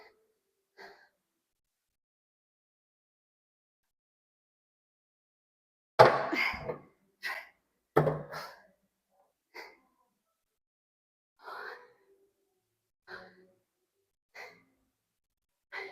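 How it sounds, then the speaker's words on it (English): Heavy gasping for air after a leg workout: a long, loud gasp followed by a string of shorter, fainter breaths and sighs spaced a second or two apart over near silence. "You just hear gasping for air back here."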